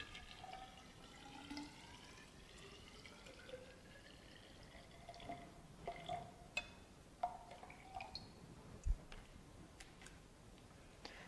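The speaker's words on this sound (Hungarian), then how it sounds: "egy nagyobb mérőhengerbe vizet töltünk," Water poured into a large measuring cylinder, a faint steady trickle and filling sound with occasional drips, quiet and close, no voices.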